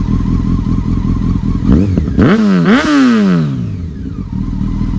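A warm 2007 Honda 919 motorcycle engine revs up sharply from idle to about 8,000 RPM in two quick climbing blips, then winds back down to a steady idle, loud and close.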